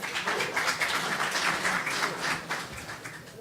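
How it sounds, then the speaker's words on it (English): Audience applause at a DevFest on Campus tech talk as a speaker on machine learning tools is welcomed, a steady wash of clapping lasting a few seconds at moderate level, with no voices over it. "Please applaud."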